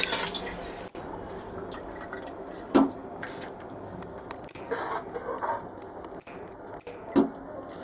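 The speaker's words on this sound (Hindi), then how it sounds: "अब ये मैंने चावल भिगो के रखी थी 1 घंटा पहले, वो इसमें ऐड कर देंगे" Soaked rice goes into boiling water for prawn biryani: a few soft, close splashes and wet drips stand out at intervals over a quiet, low bubbling background.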